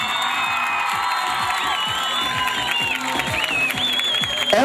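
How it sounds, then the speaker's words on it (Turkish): A festival audience at the Taşucu Environment Festival cheers and applauds a band, a dense, loud wash of clapping with whoops and shouts that holds steady throughout and swells slightly at the end. "onları yürekten alkışlamaya hazır mıyız?"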